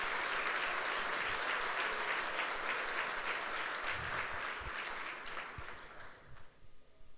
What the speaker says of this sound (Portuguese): Dá um aplauso aí ao Senhor Jesus.